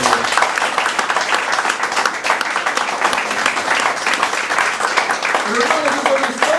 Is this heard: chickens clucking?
no